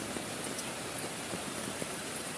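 Heavy rain drumming on a tent pitched in a forest during a camping trip, a constant dense hiss with scattered soft patters and drips, steady and close, with no voices.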